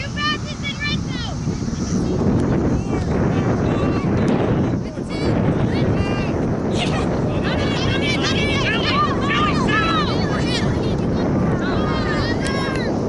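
Steady, loud wind buffets the microphone throughout an outdoor ultimate frisbee game, a continuous rushing roar with a brief dip midway, while a commentator talks over it.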